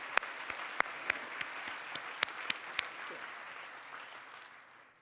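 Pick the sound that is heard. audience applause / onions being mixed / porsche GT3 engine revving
audience applause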